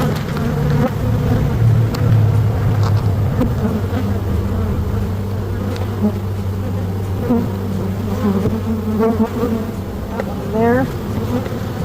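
Honey bees buzzing during a hive transfer from a Langstroth hive to a horizontal hive, a dense close droning hum with individual bees whining past, steady throughout, with one brief spoken word.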